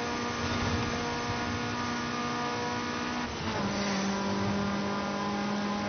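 A 2016 Mazda MX-5 ND engine drones steadily at high revs while racing on a circuit, heard from inside the car, with a brief gear change shifting the pitch midway before it pulls hard again.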